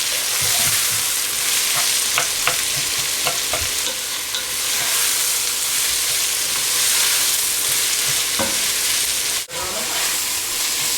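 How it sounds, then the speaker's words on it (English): Onions stirred and sautéed in a pot with earlier-added ingredients for goat curry, a steady close sizzle with scraping stir strokes and soft clicks throughout, one brief dip near the end. "So you just mix the onions in with all the stuff that we put earlier."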